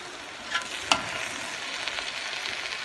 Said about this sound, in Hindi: और साइड से चमचा आपने मारना और इसको मिक्स करते जाना ऐसे।